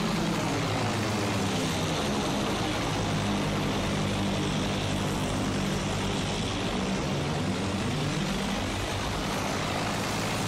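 Propeller airplane engine in Battlefield 1, a loud continuous droning buzz with a slowly shifting pitch as the aircraft turns and loops, steady throughout with no voices.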